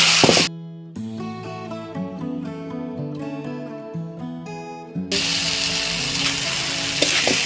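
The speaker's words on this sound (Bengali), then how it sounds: "হলুদ গুঁড়ো 2 চামচের মতো, পরিমাণ মতো লবণ, মশলা আর আলু মাশরুম আমি সব একসাথে মিক্স করে ভেজে নিচ্ছি।" Potatoes and mushrooms fry in a pan with turmeric powder, salt and spices, giving a loud broadband sizzle. The sizzle is strong at the start and over the last few seconds, with music playing through the middle.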